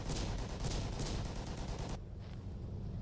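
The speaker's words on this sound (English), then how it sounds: "You can hear all the guns going off." Dense WWII-era gunfire from the online game World War 2 Online: rapid overlapping shots and bursts for about two seconds, then dropping to a quieter, duller rumble.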